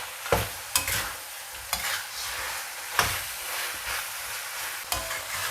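Chicken meat sizzles steadily in a hot pan while a utensil stirs it, with sharp scraping knocks against the pan every second or so over the continuous frying hiss, close up and with no talking.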